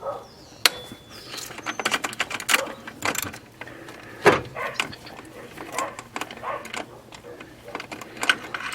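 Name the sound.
socket wrench with 12mm socket on long extension removing bolt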